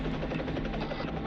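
Helicopter rotor chopping steadily and loudly overhead in a continuous drone, alone with no voices, during a police search of surrounding area.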